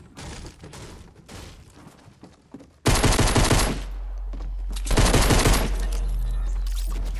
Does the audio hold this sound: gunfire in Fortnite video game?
yes